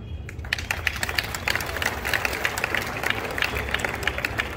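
Dense applause from a crowd saluting a head of state at an official ceremony, steady rapid clapping throughout with no voices on top.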